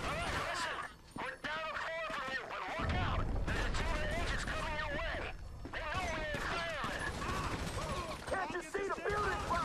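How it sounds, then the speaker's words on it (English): Rapid bursts of assault rifle and SMG fire crackle through Grand Theft Auto 5 combat, with repeated sharp shots and crashes mixed under game dialogue and ongoing talk. "Alright, AK time. Assault rifle."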